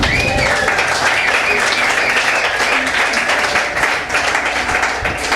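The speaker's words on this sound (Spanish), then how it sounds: "¿Cuánto le dan un aplauso a Cristo por esto?" A church congregation at a Sunday service breaks into loud, sustained applause, many hands clapping densely and evenly throughout with a slight dip near the end, crowd voices mixed in.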